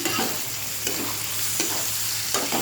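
Food is stir-fried in a pan with a steady, loud, close sizzle and rhythmic scraping of a spatula, and no talking is heard.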